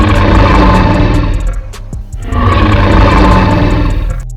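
Two deep, rumbling growls from a dinosaur in the Dinosaur Simulator video game, each loud and sustained with a gravelly, engine-like throb, split by a brief dip in the middle, with no talk over them.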